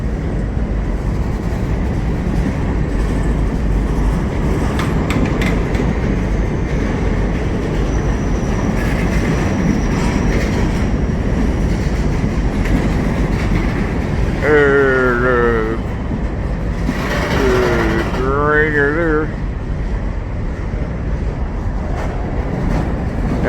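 A CSX freight train of boxcars rolls by with continuous rumbling and clattering of cars, punctuated by a few sharp wheel squeals partway through.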